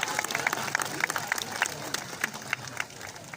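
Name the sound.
zoo audience applauding sea lion show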